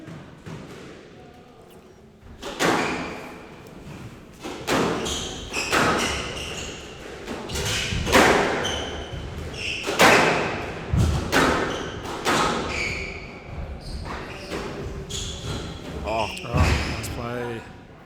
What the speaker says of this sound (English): very, very nice straight drop in the front from Elijah.